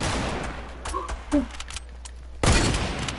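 Sniper rifle fire in a French-language online shooter game, with scattered distant gunfire and a sharp, loud shot near the end, while players talk in the background.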